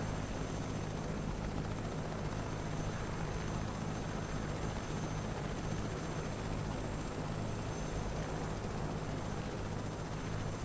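An H125 helicopter in Microsoft Flight Simulator 2024 drones steadily over a Grand Canyon tour route, a continuous broadband rotor and turbine wash with low hum, unchanging in level throughout and with no voices.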